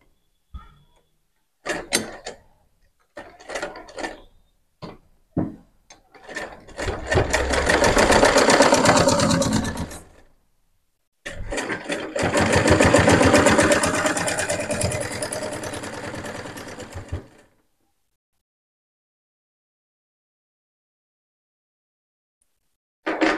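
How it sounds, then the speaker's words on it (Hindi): An electric sewing machine stitches fabric for a potli bag made from old cloth, starting with several short bursts, then two long loud runs of rapid mechanical whirring separated by a pause, close up and alone. "मैं आपको स्टिचिंग करके दिखाती हूँ। पहले हम इसको सिर्फ वन टाइम फोल्ड करते हुए सिलाई लगाएंगे।"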